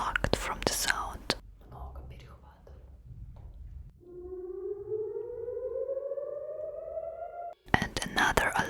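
Israeli rocket alert siren rising into a steady, loud wail with layered harmonics, sustained for several seconds, preceded by soft whispered talk and followed by close speech.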